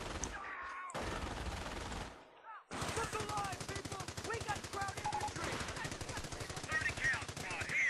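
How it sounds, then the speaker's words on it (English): An MG42 machine gun fires in Company of Heroes, short bursts followed by a long sustained stream of rapid rattling gunfire, loud and dense over battle noise. "I did finally manage to bring up an MG42"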